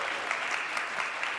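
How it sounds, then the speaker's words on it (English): A congregation claps during a Sunday morning church service, a brief steady patter of applause at moderate volume. "Give her a round of applause."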